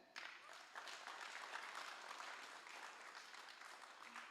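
Sustained applause from an audience at a motivational speech, a dense steady patter of many hands clapping for several seconds without pause.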